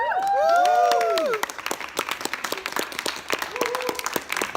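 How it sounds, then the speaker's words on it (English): Audience at an evening talk at an office hub applauds and cheers its first speaker, a whoop and tonal voices in the opening second, then steady clapping from a moderate-sized crowd continuing to the end. "A great applause to Anton, to our first speaker tonight."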